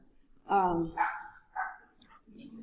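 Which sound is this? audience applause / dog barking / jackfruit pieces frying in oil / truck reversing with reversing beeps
dog barking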